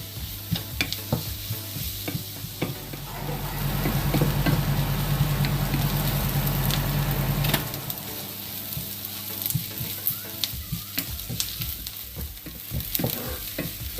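Onions with salt sauté in a pan, a continuous close sizzle with scraping stir strokes and spatula taps, while a low steady hum runs underneath for several seconds midway.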